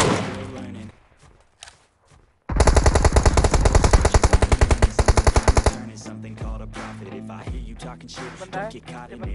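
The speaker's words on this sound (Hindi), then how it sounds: "देखा है पता है तो वो लोग गोली चला रहा था ना" Gunfire in a shooting video game, a long loud burst of rapid automatic fire after a quieter start, followed by scattered shots and thuds, with voices talking over parts of it.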